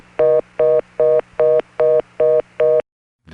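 Telephone reorder tone after an early-1980s Cognitronics intercept announcement, seven loud, evenly spaced fast-busy beeps, followed by a short silence and the start of another sound.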